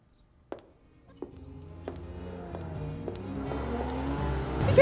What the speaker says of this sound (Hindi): अली साहब की गाड़ी है वो तो